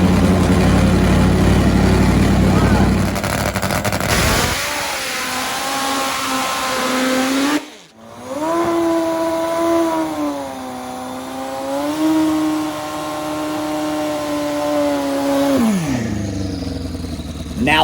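Racing motorcycle exceeding 250 mph, a loud sustained high-pitched engine roar that holds steady and shifts pitch as it passes, with a brief dropout midway and wind noise at the start.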